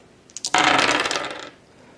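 A handful of dice tumble and clatter onto a table during a Target Earth tabletop game. A few light taps come first, then a dense, bright rattle lasting about a second that settles quickly, with no talking.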